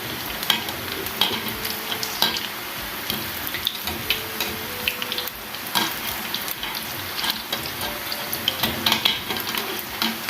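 Spinach pakoras frying in hot oil in a kadai, a dense, steady crackling sizzle with bubbling and occasional stirring clinks, continuous and fairly close without any talking.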